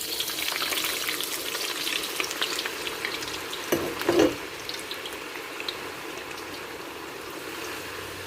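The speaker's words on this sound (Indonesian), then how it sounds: "Lalu goreng kentang." Steady crackling sizzle of potatoes frying in hot oil, continuous and close, with a brief clatter partway through.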